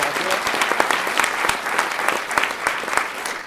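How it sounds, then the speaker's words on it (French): Audience at an amateur theatre show in Montoire applauding, a dense, lively burst of clapping from a modest crowd, close and sustained. "On peut les applaudir."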